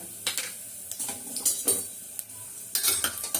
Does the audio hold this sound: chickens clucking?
no